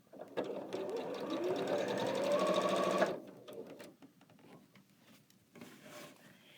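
A sewing machine stitches through a quilt in a fast, steady whirring run of about three seconds, then stops. Softer handling and rustling of the fabric follow, close up.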